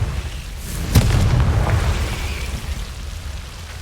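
A Confringo blasting spell explodes in Hogwarts Legacy, one sharp, loud boom followed by a low rumbling tail over steady background noise.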